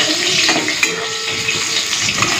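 Slices of pointed gourd (potol) fry in oil in a pan, giving a close, steady sizzle with faint stirring clinks and bubbling throughout.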